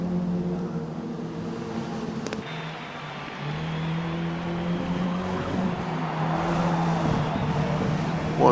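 Cars in a video game race hold a steady engine drone, with a brief sharp interruption early on and the pitch swelling as the pack pushes on, nose to tail.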